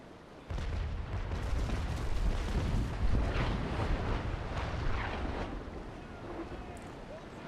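Warship cannon fire from Trincomalee and Belle Poule frigates in the naval game Naval Action: a sudden onset of heavy, rolling booms and sustained roaring rumble that slowly eases, with a faint voice in the background.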